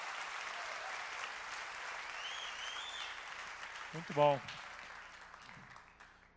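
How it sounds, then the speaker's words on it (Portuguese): A church congregation at a Saturday evening service applauds in a steady, full wash of clapping. A voice speaks briefly near the end. "Aplaude aí, gente."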